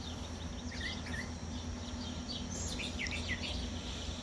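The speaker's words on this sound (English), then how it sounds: "I just had like 6 cardinals down there and about 15 finches" Cardinals and finches gathered at a backyard feeder in the morning, giving scattered high chirps and short twittering calls, faint against a low steady background hum.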